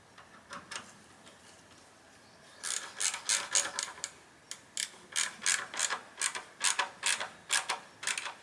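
Ratcheting clicks from tightening an exhaust clamp on an Akrapovic titanium slip-on muffler for a Honda CB1000R, coming as short bursts of crisp, evenly spaced clicks at close range, with a brief pause between strokes.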